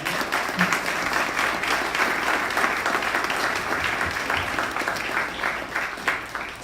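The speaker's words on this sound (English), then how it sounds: "let me get a big round of applause for our panel" Sustained applause from an audience at a business networking event, honoring a panel after an Opportunity Zone discussion; dense, steady clapping fills the whole stretch at even loudness with no talk over it.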